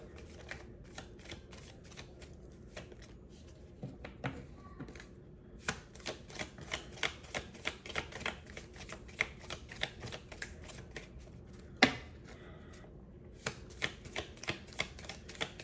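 Soft, close riffling and light slaps of tarot cards being shuffled over and over, in irregular bursts, with no talking.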